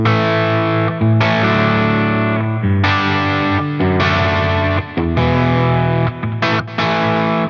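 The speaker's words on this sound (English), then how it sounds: "Lovely overdrive. I love the Weed Whacker." Overdriven electric guitar through the Eventide H90's Weed Whacker overdrive, playing loud, sustained chords and riffs with brief gaps between phrases, alone without talk.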